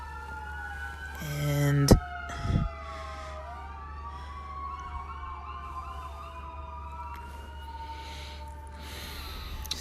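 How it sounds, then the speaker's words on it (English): Emergency vehicle sirens pass outside, their wailing sweeps fairly distant and continuous for the whole stretch. Early on a single short word is spoken, and there are a couple of loud close knocks and bumps. "the sirens distracted me"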